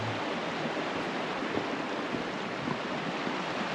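Water pours and rushes steadily along a washed-out river trail marked with red blazes, a dense, continuous broadband wash close by with no voices.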